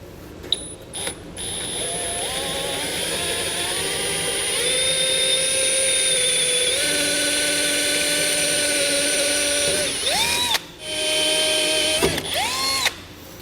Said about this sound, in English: with these you just drill out the center